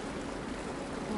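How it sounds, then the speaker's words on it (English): Water pours and flows toward a drain in the video game Horizon Forbidden West: a brief, steady rushing wash with no voices. "Water's flowing towards the drain."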